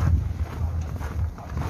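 Wind blowing through a fine, powdery snowstorm in Russia, a steady low rumbling gust buffeting close to the microphone with no pauses.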